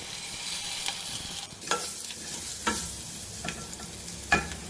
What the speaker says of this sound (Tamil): அப்புறம் பெருங்காயத்தூள் போட்டுக்கிறேன், பச்சை மிளகாய் போட்டுக்கிறேங்க, இந்த சிறுபருப்பு போட்டுறேன்.